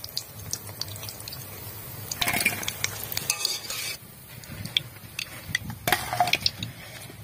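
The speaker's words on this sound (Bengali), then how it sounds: "এভাবে সবকটা পকোড়া ভেজে নেব" Spiced eggplant pakoras fry in hot oil with a close, steady sizzle, while stirring and clattering handling noises come and go in bursts, with no talking.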